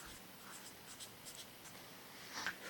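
A pen or marker scratches across a surface in short, faint strokes, close by, with no speech.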